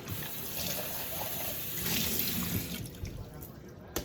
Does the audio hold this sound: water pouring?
yes